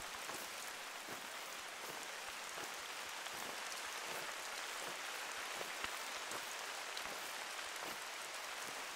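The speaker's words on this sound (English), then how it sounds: "That rain might be a little too loud," Steady rain in the hunting game theHunter: Call of the Wild, set in the Pacific Northwest: a dense, loud hiss of falling drops with faint patters throughout, no voices.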